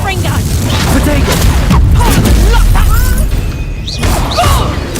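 Confringo fire spell blasts in Hogwarts Legacy gameplay, a steady run of booming, crackling bursts over a dense game soundtrack, with a voice speaking through.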